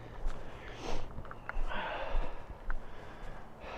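Quick, close sniffing bursts, several short snuffling inhales in a row, soft and breathy with no talking.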